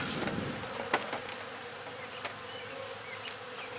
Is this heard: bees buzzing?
yes